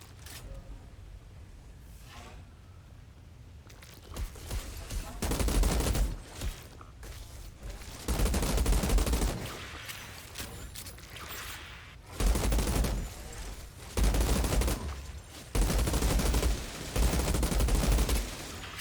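Bursts of loud gunfire in Outriders, a video game, come in repeated sustained volleys separated by short pauses, rapid automatic fire that dominates the scene.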